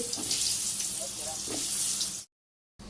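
Pointed gourd pieces rubbed with turmeric, chili and salt fry in hot oil in a wok, making a loud, dense, continuous sizzle with faint spatters before the sound abruptly drops out briefly near the end.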